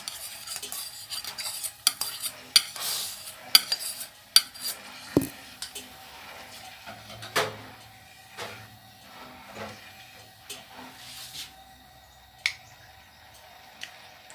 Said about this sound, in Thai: คนไปเรื่อยๆค่ะ ที่เราต้องคนไปในทางเดียวกัน